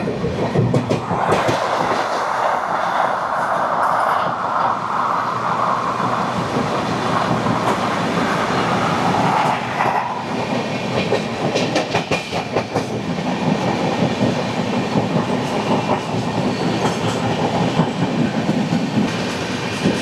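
The Poorva Express from Kolkata to Delhi rumbles along the rails in a continuous loud roar, rapid clickety-clack of wheels over joints running through the whole stretch, heard from on board.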